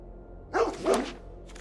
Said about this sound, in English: Oh, they are raccoon dogs. I guess maybe they do bark?